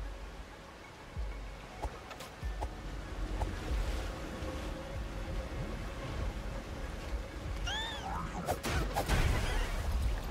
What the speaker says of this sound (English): Secret waterfall, always hiding stuff.